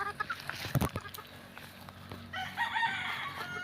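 Gamefowl chickens on a farm, including a bull hen, with a rooster crowing and clucking close by, a sharp burst near the start and steady farmyard bird calls throughout, no talk over them.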